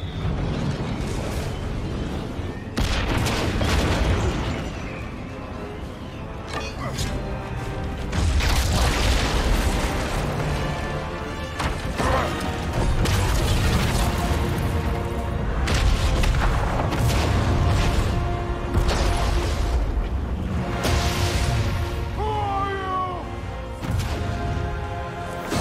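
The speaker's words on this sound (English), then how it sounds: "The bomb." A bomb blast in the God of War Ragnarok video game: deep booming rumbles and crashing impacts swell repeatedly over a continuous loud, dense layer of game sound with no clear speech.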